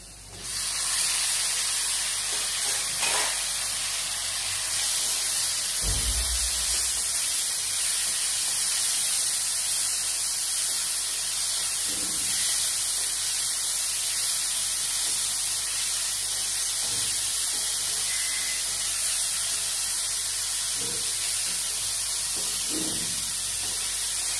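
Tomato sautéing with browned onion in a pan for Chettinad-style fish curry, a constant loud close hiss with faint occasional clinks, no voices.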